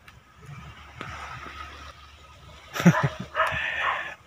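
A dog makes a few short yips and panting sounds near the end, after a stretch of faint background noise.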